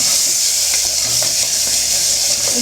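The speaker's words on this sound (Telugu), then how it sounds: "అప్పటి వరకు మనం మూత అనేది పెట్టుకోకుండా మటన్ అనేది కుక్ చేసుకోవాలి." Mutton for gongura curry fries in an uncovered pan, giving a steady loud sizzle with occasional stirring scrapes and clinks, no voices.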